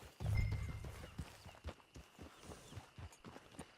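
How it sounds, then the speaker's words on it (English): Horse hooves clip-clop in the Red Dead Redemption Online video game. A snort or whinny comes first, then a series of distinct hoof strikes at an irregular walking pace, close by and moderately loud. "There's my horse."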